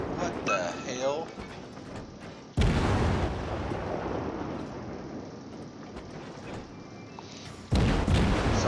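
Naval guns booming in World of Warships from a Gremyashchy destroyer, with heavy, sustained rumbling blasts and two sudden loud onsets, under a voice talking throughout.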